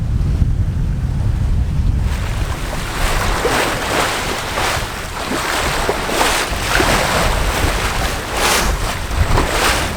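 Strong, blustery squally wind buffeting a sailing yacht at sea crossing a channel between islands, loud continuous roar with wind-noise gusts and wave wash, no talking.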